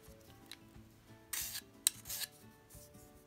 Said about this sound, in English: it's important to take a file to these edges and make sure that all the burrs are down